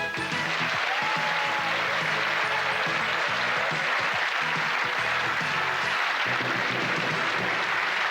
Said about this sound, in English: give a cheer in the studio to the contestants who are going for gold